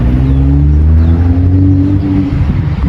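A BMW 135i revving hard on launch control, its engine note a loud, steady drone with rising harmonics for about three seconds before easing off slightly near the end.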